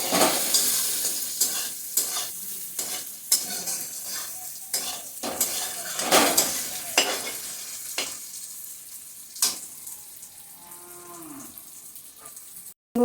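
Brinjal fries in fish oil in a pan, sizzling loudly under repeated scraping strokes of a stirring spatula; toward the end the stirring stops and a cow lows faintly in the background.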